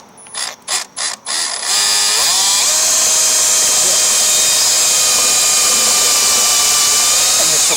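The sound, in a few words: drilling a hole in a Snapper 824 snow blower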